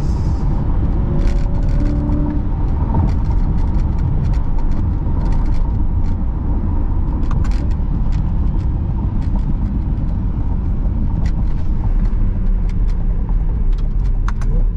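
A Corvette engine pulling steadily in the 4000 to 5000 rpm range on a late-night cruise, heard from inside as a dense, constant low drone with road rumble and faint rattles, no talk.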